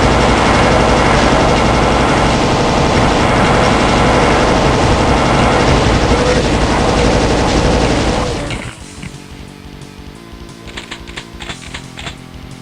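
Rapid, relentless plasma gun fire burning cells in the Doom map Slaughterfest 2012 Map02 Cashews, a dense continuous stream that stops abruptly, leaving scattered explosions and game noise.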